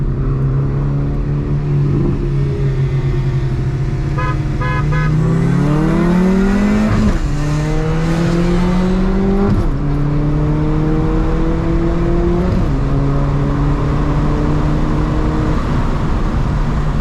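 Volkswagen Mk4 GTI racing a Honda Civic, a loud close engine droning steadily, then climbing through several sharp gear shifts with rising pitch before settling into a sustained high-speed roar, no talking.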